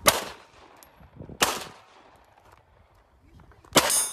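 Three loud gunshots from a real firearm, each a sharp blast with a short decaying tail, spaced roughly a second and a half then two seconds apart, with faint background noise between them.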